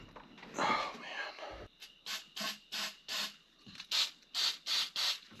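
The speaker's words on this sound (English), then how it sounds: "Silicone spray." Silicone spray from an aerosol can is applied while working on an old 1981 squarebody farm truck, first as a longer hiss, then as a quick series of about eight short, evenly spaced spritzes.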